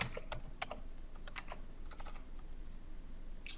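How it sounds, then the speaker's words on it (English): Password being typed on a computer keyboard at a login screen: a quick, irregular run of light key clicks, close by and fairly quiet over a steady background hum, with no talking. "Let me go ahead and type that in."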